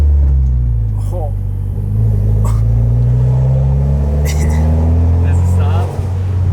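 A Mitsubishi Evo X with steel braided brake lines drives and slows, its low engine rumble steady and loud from inside the cabin, shifting in pitch as it brakes, with brief faint sounds above it.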